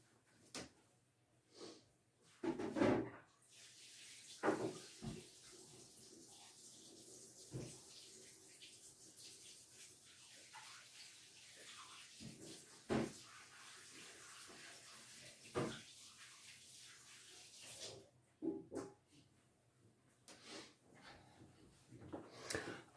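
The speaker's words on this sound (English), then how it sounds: "and then I'm going to wash my hands." A kitchen tap runs in a steady, moderate rush for several seconds while hands are washed, with clunks and knocks before and after. It is close, with no talking.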